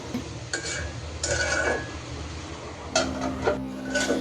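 Pointed gourd fry being stirred in a pan, a few scraping and rubbing strokes of a utensil against the pan in short bursts, close and fairly loud, no talking.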